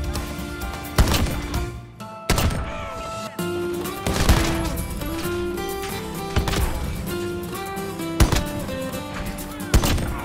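Semi-automatic Rytec AMR rifle firing in a video game, a handful of loud, widely spaced single shots with booming tails over a busy game soundscape.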